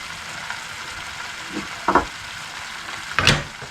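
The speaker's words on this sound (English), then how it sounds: "we're going to fry all that up" Pork fries in a pot, a steady soft sizzle with a few louder bursts of crackle and stirring clatter, close and without talk.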